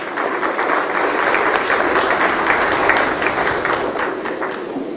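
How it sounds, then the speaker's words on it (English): An audience at a sod cutting ceremony for an oil refinery's second phase in Ghana gives a big round of applause, dense steady clapping filling the space throughout, with no voices over it. "I think he needs a big round of applause"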